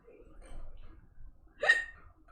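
A single short, sharp sneeze bursts out during a quiet board game session, brief and fairly close, following soft background murmurs.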